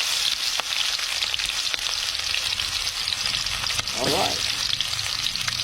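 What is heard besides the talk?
garlic and onion sautéing for pata ng baboy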